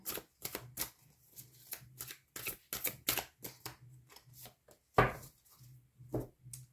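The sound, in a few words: shuffling tarot cards to draw one last card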